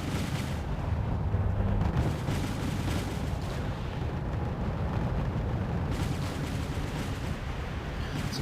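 Continuous rumbling anti-aircraft artillery fire in the Wargame: European Escalation battle, dense overlapping booms and crackles forming a steady roar with no clear gaps, no voices.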